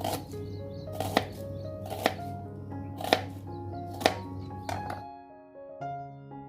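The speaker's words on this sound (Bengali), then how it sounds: "একটু পেঁয়াজ আর টমেটোগুলো একটু কুচি করে রেখে দিচ্ছি" Onions and tomatoes being chopped on a board at home, with five or six evenly spaced knife thunks over soft music that carries on alone after the cutting stops.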